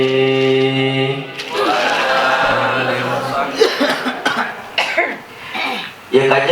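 A male preacher coughs and clears his throat in harsh, close bursts during an Islamic sermon, with his speech running around the coughs.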